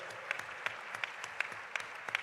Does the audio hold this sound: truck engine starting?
no